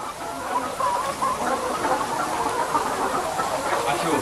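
Layer hens on a large egg farm cluck and chatter continuously as a dense, close flock, with no talking.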